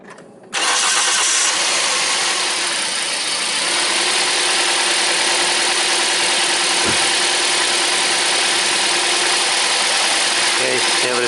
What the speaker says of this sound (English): now I start the engine and let's look how this works